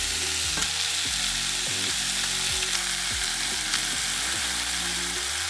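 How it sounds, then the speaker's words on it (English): Buffalo dip and slices of American cheese stirred in a pan over low heat, a continuous close sizzle with repeated scraping strokes and a faint mechanical hum underneath. "Turn it down to low from medium, start stirring"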